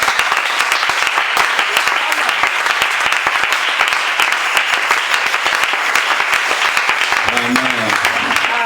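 A church congregation claps steadily and loudly throughout a worship service, dense applause filling the space, with a voice briefly rising near the end.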